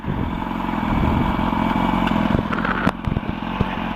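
A 2004 Yamaha R1 motorcycle engine revving steadily with a slipping clutch. The sound is a close, continuous mechanical drone with some rattling clatter near the end, and no voices.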